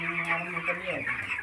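Broiler chickens on a poultry farm cluck steadily at close range, a dense overlapping chorus of hens with no clear pauses.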